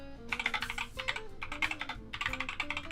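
Rapid bursts of clicky keystrokes on a compact 60% mechanical keyboard, typed up close in several quick runs separated by short pauses, with no talking.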